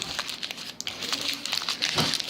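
Plastic wrap crinkling and rustling up close as homemade play dough is wrapped, an irregular crackly texture of soft crumples lasting a couple of seconds.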